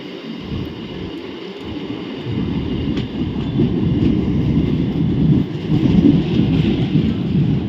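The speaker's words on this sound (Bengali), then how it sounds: "এবার ট্রেন ঢুকছে হচ্ছে" A crowded local train on the Sealdah–Tarakeswar line pulls into Dum Dum Junction with a loud, continuous low rumble and rattle that builds steadily, heard from on board with no speech.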